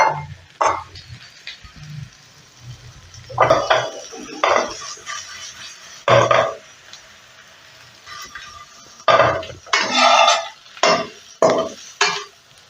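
Eggplant-tomato masala being stirred into ghee-fried eggs in a pan, with intermittent scraping and clinking bursts of a spoon against metal, fairly close, separated by quiet gaps.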